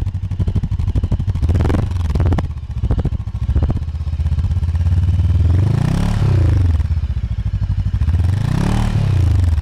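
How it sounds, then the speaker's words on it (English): Close, loud exhaust of a Voge 500AC motorcycle, idling with a throbbing beat and blipped through several sharp revs that rise and fall, with mechanical clatter between them. "That's really, really nice exhaust sound."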